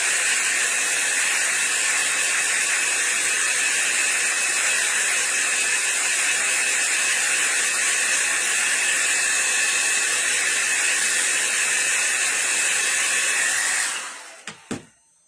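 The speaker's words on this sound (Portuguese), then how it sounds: "Deixa eu só pegar aqui o secador e puxar. Vou secar ela aqui" A hair dryer blows on wet lavender paint during a gestural painting lesson: a loud, steady, close whoosh runs unbroken for about fourteen seconds, then cuts off with a couple of small clicks.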